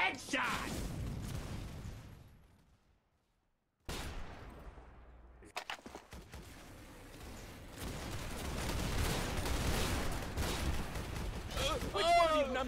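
Gunfire and artillery blasts in a WWII video game set at Omaha Beach, with dense bursts of shots and booms before and after a brief silent gap, loud and continuous toward the end.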